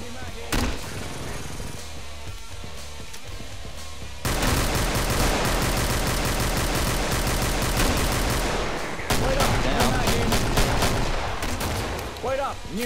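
Dense, sustained gunfire from a co-op shooter in Killing Floor, with rapid automatic bursts and sharp shots that swell louder after a few seconds, and voices talking at times beneath the shooting.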